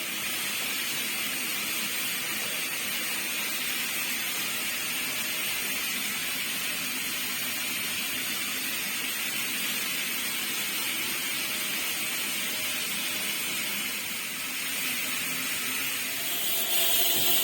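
Pressure cookers cooking feijoada keep up a steady, loud broadband hiss of escaping steam, constant and unbroken for the whole stretch with no voices.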